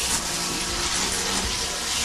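Cold water gushes from a tap under strong pressure, a steady, loud, close hiss of running water with no voices.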